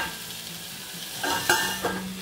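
Carrots sizzle softly in a frying pan while being stirred, with quiet scraping and a few sharper clinks of utensil against pan over the low steady frying.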